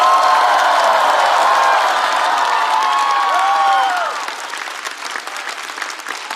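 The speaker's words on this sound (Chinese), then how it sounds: "再次把掌声送给各位，谢谢你们" A studio audience at a stand-up comedy competition show applauds loudly with cheers and whoops, a dense wash of clapping that thins and softens after a few seconds.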